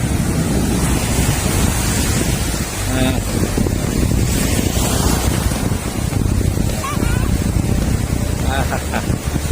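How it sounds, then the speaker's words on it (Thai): Waves crash and splash against a river mouth dam at Pak Nam Rayong, a loud, continuous rushing surge with heavy wind buffeting the microphone. "สายน้ำซัดสาดกระเซ็น"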